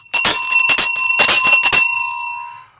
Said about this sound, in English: let's go ahead and ring the bell on Professor Kwabena Frimpong Boateng.